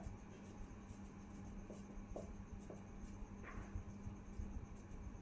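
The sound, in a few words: writing out a maths solution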